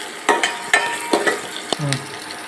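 Shallots and garlic sautéing in a pan after fennel seeds are fried, several distinct spatula scrapes and stirs over a light sizzle, close by and brief.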